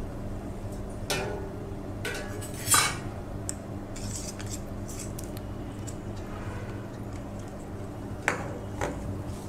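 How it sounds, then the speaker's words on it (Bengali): Spice paste for a rohu fish curry being stirred in a bowl, with scattered clinks and scrapes of a utensil against the bowl, one sharper knock near the start and another later, quiet and close with no talking. "মশলাটা আমি একটু এখন গুলিয়ে নেব।"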